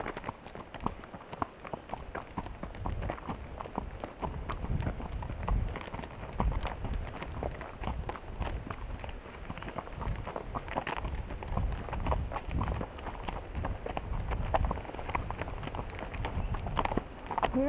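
Horse hooves clip-clop steadily along the Mill Creek trail, close and continuous, with riders talking over the footfalls.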